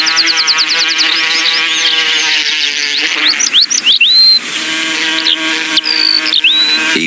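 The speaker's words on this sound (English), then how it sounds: "A colony of hunting wasps took his eye. Their scientific name was Philanthus triangulum." Bee wolf hunting wasps, Philanthus triangulum, buzz in a steady, loud harmonic drone, with high whistling, sweeping chirps breaking in over it.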